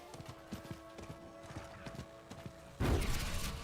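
Horse in the Diablo IV video game trotting with quick, even clip-clop hoofbeats, then a loud whinny bursting in near the end, all close and clear.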